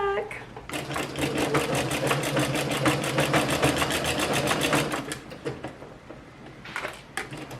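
A sewing machine runs steadily, stitching rows of stitches for an elastic waistband on a mending job, a fast even rattle that holds for several seconds and then slows and stops with a few short bursts.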